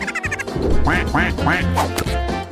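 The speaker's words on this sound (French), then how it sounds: "Elle pourra regarder les jolis canards nager le soir." Ducks quack loudly and close by, a string of nasal calls in quick succession over a busy background.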